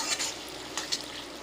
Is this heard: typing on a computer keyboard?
no